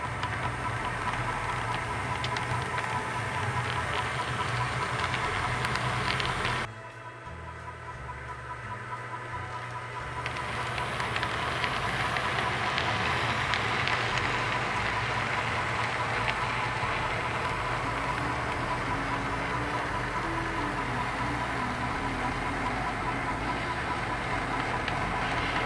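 Locomotive and cars rolling back through a rail yard track while making up an outbound train, a steady broad rumble with engine drone throughout, briefly dipping and thinning for a few seconds before resuming.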